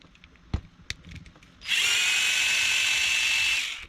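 A power drill backs screws out of an Arrma Big Rock 223S RC car, a few sharp clicks and taps before a loud steady whine starts midway and runs continuously, close and alone, to the end.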